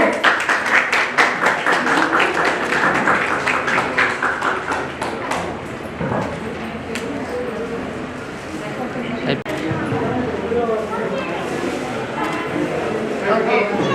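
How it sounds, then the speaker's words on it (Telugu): Audience applause at a book launch ceremony, a dense run of clapping from many hands that fills the opening seconds, then thins and mixes with voices and room chatter. "జీవితాన్ని తెచ్చుకున్న ఈ వీరవంతులందరికీ మన హృదయపూర్వక చప్పట్లు"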